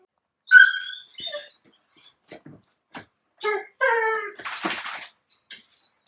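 A dog whimpers and whines in several short, high, tonal bursts with pauses between them, fairly close and alone, early on a Monday morning at home.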